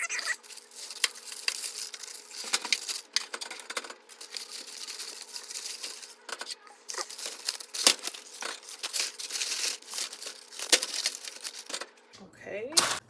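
Hot foil crinkles and crackles continuously as it is peeled off freshly baked potatoes, a busy near rustle with sharp ticks throughout, ending with a brief clatter.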